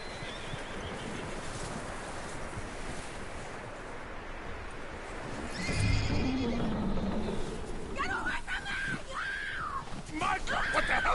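A horse whinnies loudly in Red Dead Redemption 2. Hooves and ambient game sounds come first, the neigh rises in the second half, and a voice talks underneath.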